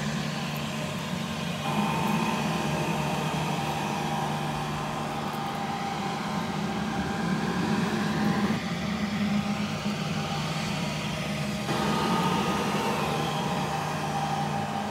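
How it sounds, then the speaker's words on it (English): A MaxRide sweeper vacuum runs with its vacuum motor and brushes engaged, a steady loud whirring drone with constant hum and slight shifts in tone, no talking. "That activates our vacuum motor, the brushes, and the vacuum come on when you push the pedal."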